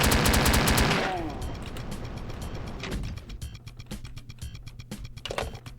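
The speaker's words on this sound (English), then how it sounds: "there's a chain gunner right" A chaingunner enemy fires in a Doom level, a loud rapid burst of shots at the start that cuts off, followed by quieter mechanical game sounds and scattered clicks.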